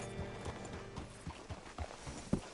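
Steady clip-clop of horse hooves at a walking pace in Red Dead Redemption, fairly close, with a faint ambient background and no talking.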